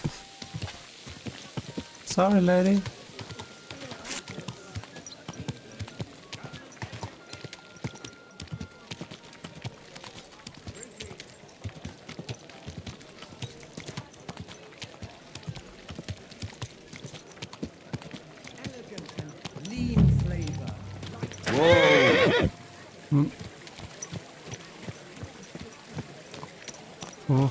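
Horse hooves clip-clop steadily on a road in the medieval game Kingdom Come: Deliverance II, with a few short voice lines and game sounds over the continuous rhythmic beat.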